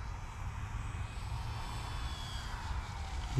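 Hobbyking Avios Grumman HU-16 Albatross RC plane with a 1620mm span comes in low on about quarter throttle for a landing in the rain, its electric motor a faint steady whine over a low outdoor rumble.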